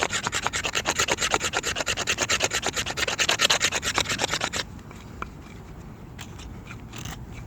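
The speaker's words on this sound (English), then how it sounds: "And I'll take a few fine shavings." A knife blade scrapes fine curls from a resin-rich fatwood stick in a rapid, even run of close, loud rasping strokes for several seconds, then stops, leaving a quiet outdoor background with a few faint scrapes.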